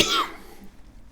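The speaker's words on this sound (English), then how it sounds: "I do have a little cough. Bit chesty." A single short chesty cough bursts out close and loud, then trails into quiet breath and room noise.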